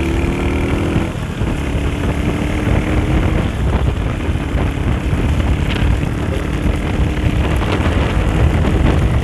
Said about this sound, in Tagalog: Ayan na ang ulan.